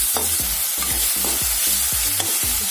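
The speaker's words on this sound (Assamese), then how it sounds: "কম জুইতে 1 মিনিটমান লৰাই ভাজি ল'ম" Fish coated in turmeric is stir-fried on a low flame, with a steady sizzle and repeated rhythmic scrapes and knocks of a spatula against the pan, close and clear, with no voices.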